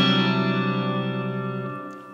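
A sustained guitar note through a Strymon reverb pedal with pre-delay turned up holds steadily for about two seconds, then the reverb tail fades out, clear and close with no voices.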